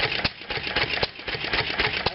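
A 1929 McCormick-Deering type M flywheel engine with a glass-pack muffler runs close by. It gives a rapid, regular run of firing pops over a low chugging drone.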